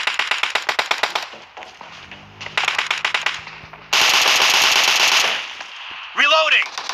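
Video game gunfire crackles in rapid automatic bursts, close and loud, with repeated volleys and a sustained stretch of shooting followed by a short metallic ring.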